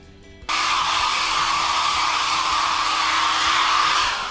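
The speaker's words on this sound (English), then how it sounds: "Blow off all the excess powder." Hair dryer blowing excess setting powder off vampire prosthetic makeup, a steady loud whoosh that switches on abruptly and runs continuously, close and alone.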